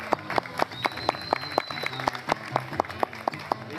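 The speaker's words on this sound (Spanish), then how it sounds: "Un aplauso para todos los compañeros esta tarde en la universidad." Audience applause at a university event, sparse, individual claps ringing out at a moderate distance with an uneven rhythm over a faint murmur, and a thin high whistle-like tone briefly hanging in the background.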